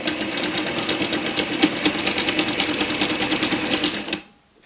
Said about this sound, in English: we're going to run it again, this time under the walking foot